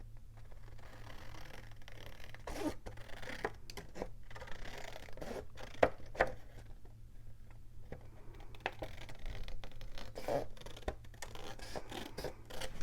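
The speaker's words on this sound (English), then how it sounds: "We are going to cut this top off." Scissors snip and paper rustles while the top is cut off a sheet of scrapbook paper for a fall junk journal, an irregular string of soft, close cutting and scratching sounds with no talk.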